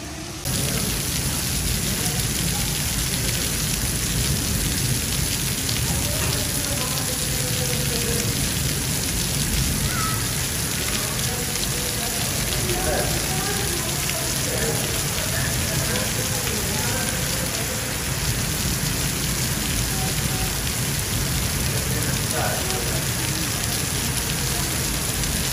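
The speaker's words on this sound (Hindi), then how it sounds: "बारिश अभी भी चल रही है" Heavy rain pours down steadily, a dense, loud hiss of drops hitting surfaces that fills the whole stretch without a break, with faint scattered patters on top.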